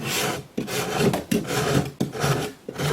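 An open rasp files a plaster sculpture in several rough, rhythmic strokes, each a scratchy, gritty scrape with short pauses between them, close and clear.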